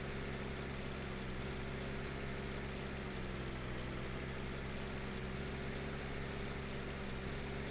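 A PistenBully 600 snow groomer engine in Alpine The Simulation Game drones at a steady, even idle-like hum throughout, with a dense, constant tone and no talk over it.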